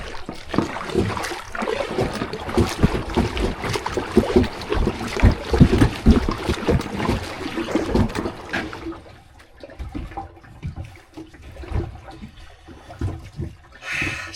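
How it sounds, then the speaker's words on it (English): Kayak paddling on an African lake: a steady series of splashing strokes and water swishes, mixed with wind buffeting the microphone, loud for the first eight seconds and then quieter, with softer, sparser water sounds. "Time to start rowing back."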